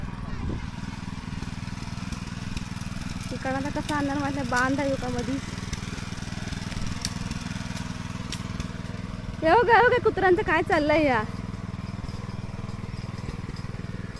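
Tractor engine running steadily at a rice field during sowing, a constant low drone underneath throughout while people talk over it.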